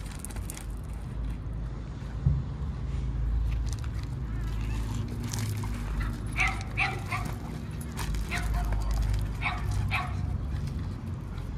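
A small dog out on a walk gives short yips and whimpering barks, close by and intermittent over a constant rumble of wind or background noise, with a person talking at times.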